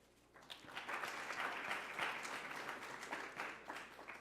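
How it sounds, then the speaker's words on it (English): Audience at a university event applauds, a steady broadband patter of many hands clapping at moderate volume, rising after a quiet start and holding throughout. "So give yourselves an applause at this time."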